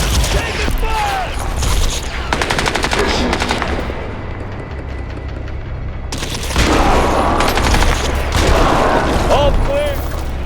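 Heavy gunfire in the Crysis 2 Remastered video game, sustained rattling automatic bursts with loud impacts and battle noise, a brief lull partway through, and shouted voices mixed in.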